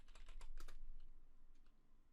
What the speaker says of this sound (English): Goddamn speed typing.